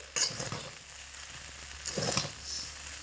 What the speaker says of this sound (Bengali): এবার ঢাকা চাপাটা খুলে দিচ্ছি হালকা একটু নাড়াচাড়া করে দেব